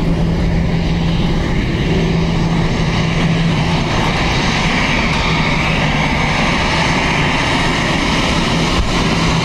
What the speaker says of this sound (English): Graham says you have an ATR 3 minutes out.